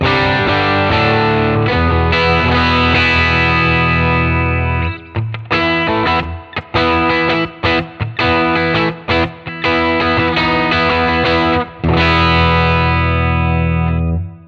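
Electric guitar with a humbucker pickup, played through a capture of a 1967 Fender Deluxe Reverb amp, gives a loud, Marshall-like overdriven tone. Sustained chords give way to choppy, stop-start riffing, then ring out again at the end.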